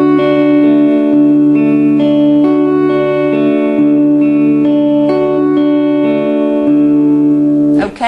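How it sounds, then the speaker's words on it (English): A riff of plucked guitar notes from a song, looping smoothly over and over in a steady rhythm, sustained and effected with reverb, loud and close with no voices. "you can repeat that over and over again, and it joins together perfectly like this."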